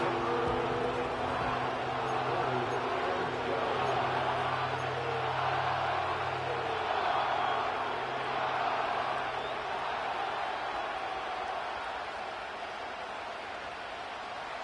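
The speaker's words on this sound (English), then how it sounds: "This crowd turning up the decibel level." A large stadium crowd at a Rams–Seahawks football game roars in a sustained, distant swell that rises and falls gently, with a broadcaster's commentary faintly underneath.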